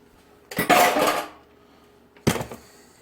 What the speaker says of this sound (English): let's mix this up real good